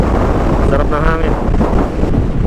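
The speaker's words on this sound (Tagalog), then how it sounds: "Sarap ng hangin." Strong wind buffets the microphone on a Yamaha NMAX 155 scooter riding along a mountain road on Baler Road, a loud steady roaring rush with faint engine drone beneath.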